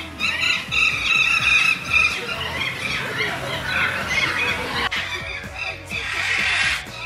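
Golden parakeets (ararajubas) in a zoo aviary in Rio, a dense chorus of shrill, overlapping squawks and screeches that carries on continuously and loudly with no pause.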